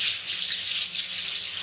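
Water pours steadily into a cooking pan of tomatoes, a bright continuous splashing hiss at close range with no talking.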